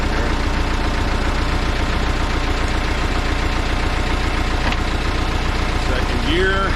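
A Case 188D diesel tractor engine idles just after its first start, a loud, steady low clatter running throughout with a knocking rhythm and a short rise in pitch near the end.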